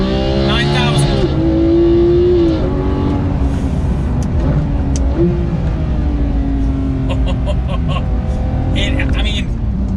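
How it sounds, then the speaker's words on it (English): A Porsche GT3 engine revs hard through auto-blip downshifts and flat shifts, loud and continuous, its pitch climbing and dropping sharply with each gear change. "auto blip downshift, flat shift"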